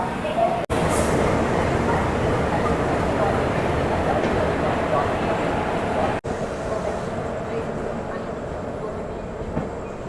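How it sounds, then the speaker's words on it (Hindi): The SMVT Bengaluru–Kamakhya AC Superfast Express pulls out of Vijayawada railway station, and a loud, steady rumble of rolling wagons with faint clickety-clack carries on throughout, cut by two brief dropouts. "फ़िलहाल अभी के लिए डिपार्चर दिखा देते हैं ट्रेन का।"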